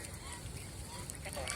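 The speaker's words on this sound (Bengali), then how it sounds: "মেয়ে হাঁস।" Female ducks on a farm give faint honking calls, repeated short quacks over a soft background murmur, distant and quiet.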